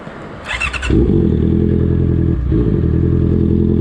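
A Honda CBR650R motorcycle on the road, with a short clatter and squeal before the engine settles into a loud, steady drone that dips briefly and then carries on, close by.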